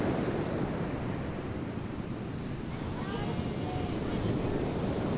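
Ocean surf on the Norfolk coast at Horsey rolls in as a loud, continuous roar of breaking waves, heavy with wind buffeting the microphone and no clear voices.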